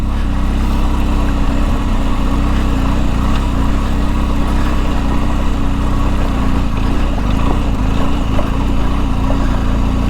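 BMW R1250 GSA motorcycle riding the Switzerland Trail, a mountain route near Boulder, Colorado, its engine a steady, loud drone running without a break, layered with wind and rough road noise.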